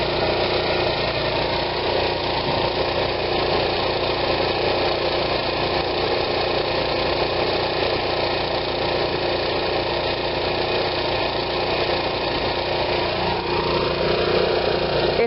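An RV generator runs steadily under full load, a loud, even mechanical drone with a faint knocking vibration, continuous and close, with no talk over it.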